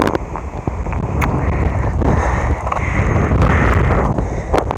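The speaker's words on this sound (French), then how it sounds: "là, il y a beaucoup de vent" Strong wind buffets the microphone with a loud, continuous low rumble and roar that swells and gusts over nearly five seconds, with no voices.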